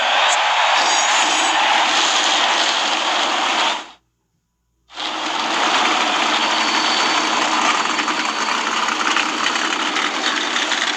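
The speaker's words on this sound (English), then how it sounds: "Gentlemen, start your engines." Loud NASCAR race car engines roar and idle steadily at a 2000 race start, cut by a brief gap of silence, then resume at a sustained high-revving drone.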